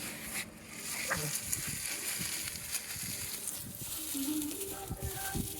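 Homemade compost is stirred by hand into a potting soil mix for a terrace garden, giving a soft, continuous gritty rustling and crunching with scattered louder scrapes, quiet and close.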